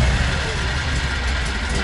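A Borus Extreme motor runs with a steady, close, loud mechanical drone that holds without a break, and a voice seems to be speaking over it.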